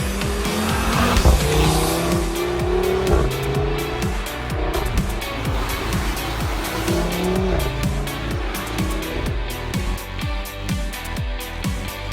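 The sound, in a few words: Audi RS3 car driving, tires squealing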